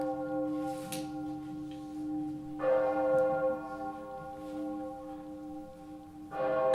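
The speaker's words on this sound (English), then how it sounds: "Stop ringing me bell!" A church bell rings out with long, resonant tones and humming overtones, struck several times with pauses as the ringing fades and returns.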